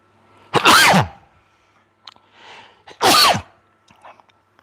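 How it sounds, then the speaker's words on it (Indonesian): A person sneezes twice, two loud close bursts about two seconds apart, with faint background sounds between, during an Indonesian live stream. "Belum pernah kalian lihat saya bersin lagi live kan?"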